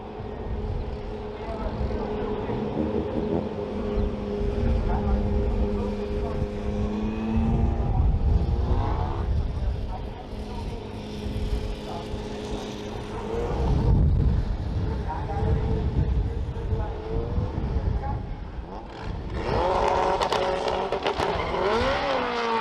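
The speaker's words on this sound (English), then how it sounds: "These were the impressions of the first drag race of the day." A Subaru and a Toyota MR2 drag racing at JapFest on the TT Circuit Assen, with roaring engines accelerating and shifting, rising and falling whines under crowd noise and talk, heard from trackside at a distance.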